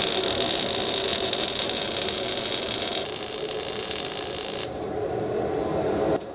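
Lincoln Electric MIG welder running a bead on steel: a loud, steady, close crackling hiss that holds throughout, then cuts out sharply near the end, leaving a lower hum.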